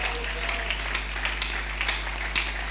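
A church congregation applauding, a steady patter of many hands clapping at moderate distance over a low electrical hum, with no distinct voices on top.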